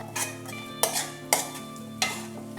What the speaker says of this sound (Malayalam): കട്ട കൂടാണ്ട് നന്നായിട്ട് നമുക്കിത് ഇളക്കിയെടുക്കണം.